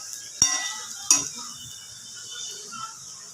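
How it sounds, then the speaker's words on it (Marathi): Onions frying slowly on low heat in a pan for prawn biryani, a soft quiet sizzle marked by two sharp metallic clinks of a utensil against the pan early on. "आपला कांदा होत आला आहे भाजून. त्याला स्लोवरतीच भाजायचं आहे"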